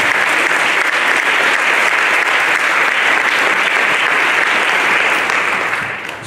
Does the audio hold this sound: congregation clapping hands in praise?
yes